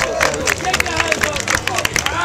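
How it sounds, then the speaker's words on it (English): Street crowd on Venice Beach, California claps and cheers in a noisy burst, the claps dense and irregular under chatter and a voice. "Make some noise. Clap your hands."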